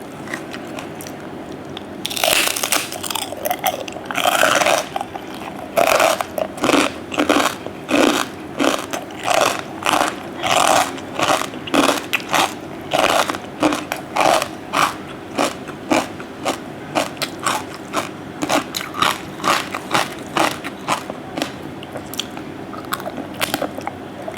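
Crispy pork rind eaten with salmon papaya salad, bitten and chewed close to the mic in loud, repeated crunches that settle into a steady chewing rhythm.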